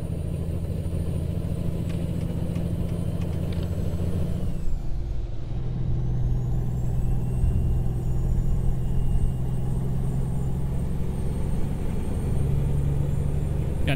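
A Peterbilt 579 truck engine in American Truck Simulator drones loud and steady as it pulls uphill, with a brief air-brake hiss and a momentary dip partway through before the heavy rumble resumes alone.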